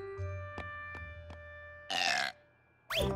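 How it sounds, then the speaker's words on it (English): A cartoon baby pony gives a couple of short, loud burps set against a soft musical background, with a few faint knocking sounds before them. "the babies need to be burped"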